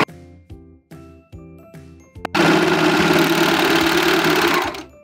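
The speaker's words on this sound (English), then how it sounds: "let's make sure our two pieces of fabric are lined up and serge right down." A serger stitches two pieces of fabric together along an underwear inseam: several short mechanical bursts with pauses, then one long continuous whirring run at close range.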